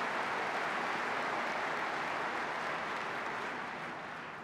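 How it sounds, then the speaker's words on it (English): A crowd at the 2013 NRA Annual Meetings applauds Paul Ryan, a dense, even roar of clapping that holds steady and then slowly fades toward the end. "Let's give Paul Ryan another great round of applause for his service and leadership to us."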